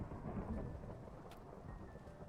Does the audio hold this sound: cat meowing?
no